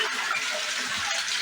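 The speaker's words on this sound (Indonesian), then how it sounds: "Kita flush lagi." A Japanese toilet flushes with tissue paper in the bowl, a loud, close rush of water that keeps up steadily for a moment without any speech.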